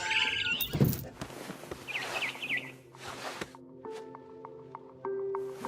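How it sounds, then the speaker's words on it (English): A barn swallow chirps in What Remains of Edith Finch, a few short bright calls early on amid soft squishy thuds, footsteps and faint ambient tones, with no one talking. "Then I heard chirping outside my window. It was a barn swallow going back to her nest."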